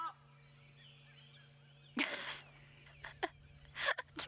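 Loud, harsh hadeda ibis calls burst out in a few raucous bursts over a steady low hum, nearby and brash.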